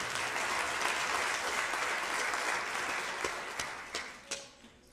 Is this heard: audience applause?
yes